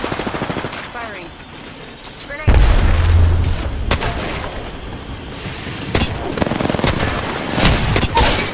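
Apex Legends match gunfire, including Mastiff shotgun blasts, comes as heavy booming shots and rattling bursts, loud and close, with in-game voices calling out over the action.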